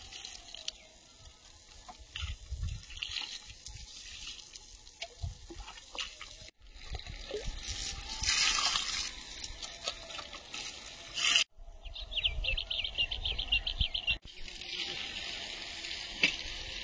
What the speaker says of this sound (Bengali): ওরা জল দিচ্ছে মিস্ত্রিরা।